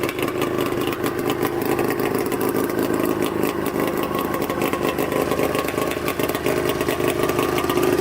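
A custom 110 HP Yamaha Banshee quad engine idles steadily and loudly close by, a dense continuous rumble with a busy rattling texture and no pauses.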